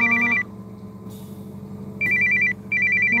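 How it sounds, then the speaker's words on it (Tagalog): A landline telephone rings in loud electronic trilling bursts, one at the start and two more near the end separated by short gaps, over a steady low background hum. "Tumawag kayo sa telepono."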